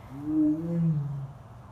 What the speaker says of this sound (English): trying to be quiet, hoping he would roar again